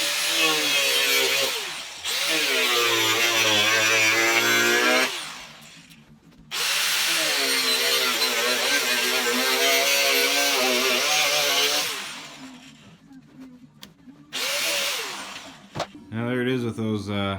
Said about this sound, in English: So I decided to use a Dremel instead of a grinder to cut this line